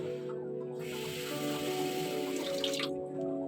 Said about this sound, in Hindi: ये देखिए मैंने पानी इसमें डाल लिया है।